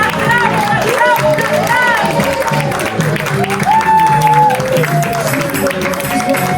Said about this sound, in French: Est-ce que nous pouvons faire un tonnerre d'applaudissements